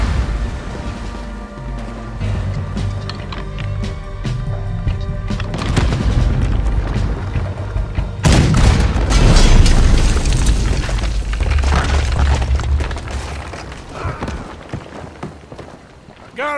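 Booming cannon fire from a battleship in Red Dead Redemption 2, heavy loud blasts and rumbling impacts layered over ship noise and in-game voices, with a sharp large boom near the middle.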